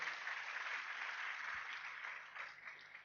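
Audience applause at a business seminar in Indonesia, a steady wash of clapping from a crowd that runs throughout, fairly distant and even, tapering slightly near the end.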